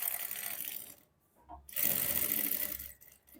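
A sewing machine stitches a kameez in two steady runs, the first stopping after about a second and the second starting again after a short pause, close by and fairly quiet, with no talking.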